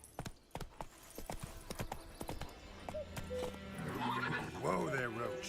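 Roach, the horse in the video game The Witcher 3, trotting with a quick clip-clop of hooves, then giving a loud, wavering neigh near the end. Someone speaks briefly in the middle.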